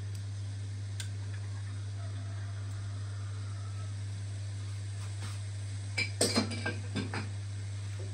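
Spoon stirring tomato paste into zucchini caviar in a pot, a few clinking, scraping strokes clustered near the end over a steady low electrical hum, fairly quiet and close.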